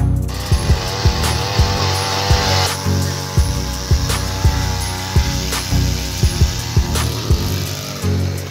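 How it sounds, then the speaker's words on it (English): An ice auger runs near the listener while drilling holes through lake ice, a steady mechanical engine drone with a regular rattling pulse about every half second. "We're gonna go try out the auger, make sure it works. Drill some holes"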